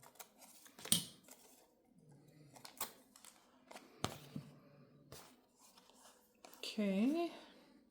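Paper being snipped with scissors, a series of short crisp cuts spaced irregularly and close by, with quiet movement between them.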